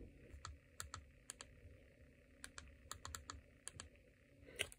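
Keys tapped on a computer keyboard as a password is entered, a series of light, irregular clicks in quick clusters, close and fairly quiet with no talking.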